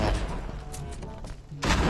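Bursts of Call of Duty Mobile gunfire crackle in quick succession under a busy, noisy mix.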